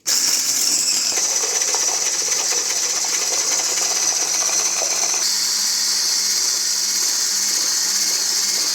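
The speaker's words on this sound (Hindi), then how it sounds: "ब्लेंडर है, मैं ब्लेंडर से कर रही हूँ।" Electric blender whirs continuously and loudly, blending a vanilla ice cream mixture at home, a steady high motor drone with a slight shift in pitch partway through.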